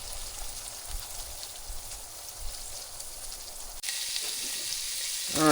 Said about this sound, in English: we're going to go ahead and dump out the grease